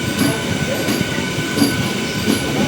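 A MEMU train rolls into platform 3 at Kovvur station, a close, steady rumble of the carriage with faint wheel squeals and bumps as it comes to a stop.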